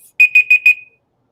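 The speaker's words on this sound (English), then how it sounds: "You're going to hear the timer because it goes off." An auction countdown timer goes off with four rapid, piercing electronic beeps in an even rhythm, loud and close, then stops, leaving silence.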